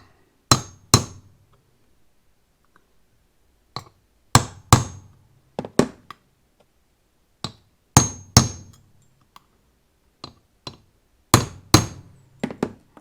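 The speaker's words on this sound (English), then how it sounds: "take your punch and hammer and just tap it just a little bit" Sharp metallic hammer taps on a metal punch, installing a Factor 55 rope guard, land in small groups of two or three, separated by quiet pauses, each strike ringing briefly and close.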